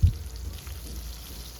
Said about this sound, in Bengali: এখন আমরা পটলগুলোকে ভেজে নেব